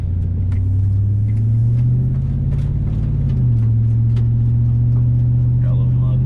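A 2004 pickup truck with a 5.3L V8 and longtube headers drives along, lit with a check engine light. Its exhaust gives a loud, steady low drone close to the microphone that swells and holds. Faint taps and noise sit above it.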